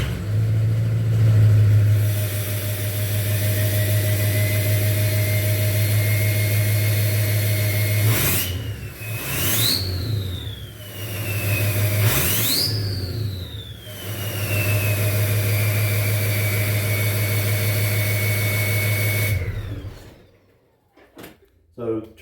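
A 2003 Ford F250 pickup fitted with a new MBRP exhaust idles with a steady low rumble, then revs sharply twice in rising bursts before settling back to idle and cutting off near the end.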